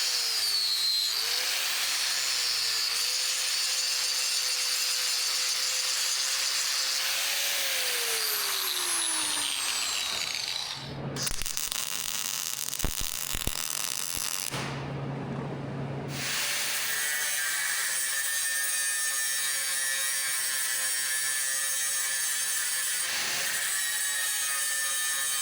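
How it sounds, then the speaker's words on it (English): Die grinder opening up bolt holes on a 1953 Mack A40 truck, a loud, continuous high-pitched whine that shifts in pitch as it bites into the metal, briefly cutting out twice before running steadily again. "I took the die grinder, opened the holes back up as well."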